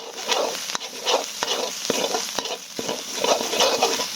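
Thai curry paste stir-fried in a pan before pork belly goes in, loud steady sizzling broken by repeated sharp scrapes of a spatula against the pan, close and alone without speech.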